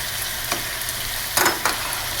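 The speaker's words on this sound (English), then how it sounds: "I'm just going to grab it like this and place it right in my saute pan" Cooked pasta lifted straight into a hot sauté pan for shrimp scampi with zucchini, giving a steady sizzle with a couple of brief, brighter bursts as it lands.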